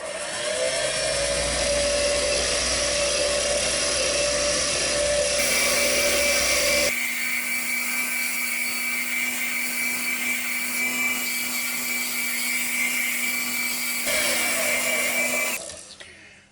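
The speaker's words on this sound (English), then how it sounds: "having the lathe going as fast as it can for a change" A wood lathe spins at full speed while a candy stripe pen blank is turned, giving a loud, steady high-pitched whine with a sustained tone that shifts partway through and then cuts off near the end.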